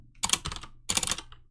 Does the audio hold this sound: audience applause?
no